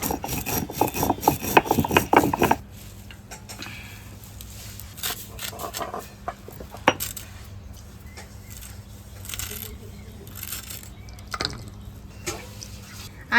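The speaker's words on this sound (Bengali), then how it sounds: "এই ভাজা মশলাটা এখন আমি গুঁড়ো করে নেব।" Roasted dried chillies, coriander and cumin seeds are ground to powder. A loud, coarse grinding burst lasts a couple of seconds, then gives way to quieter intermittent scraping and rubbing.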